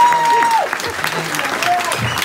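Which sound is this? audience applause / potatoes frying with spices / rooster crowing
audience applause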